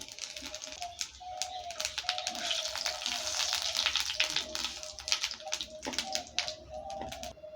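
Whole cardamom, cinnamon sticks, dried red chilies and cumin seeds crackling in hot oil for a coconut chickpea dal, a steady bright sizzle with scattered pops and taps, close and moderately loud, with a faint tone running underneath.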